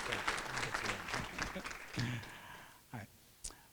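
Applause from an audience at a student awards and scholarship ceremony, a steady patter of clapping that fades out near the end, with speech mixed in over it.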